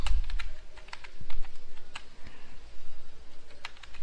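Keys clatter on a computer keyboard as a Linux command is typed, a steady run of quick, close clicks with short pauses between bursts and no voice over them.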